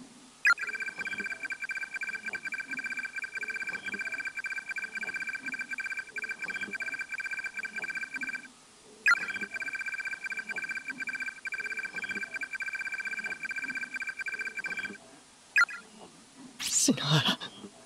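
A cell phone rings in the Corpse Party horror video game, repeated electronic tone bursts in a steady pattern that pause briefly and resume, with a short burst of other sound at the end.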